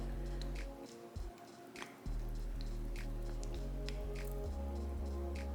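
An irrigation bottle drips and squishes water into damp moss around a repotted Anthurium vittarifolium: soft wet patters and trickles at close range over a steady low hum, with a brief quieter gap near the start.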